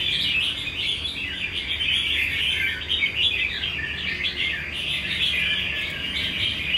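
Steady, busy chirping from a wild-caught songbird, nearby and fairly loud, unbroken for several seconds with no voices.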